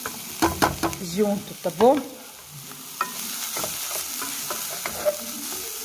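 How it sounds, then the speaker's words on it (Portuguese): Chopped onion and carrot sauté in a hot pan, giving a soft steady sizzle under stirring scrapes, while someone talks over the cooking. "Vou jogar já para refogar aqui."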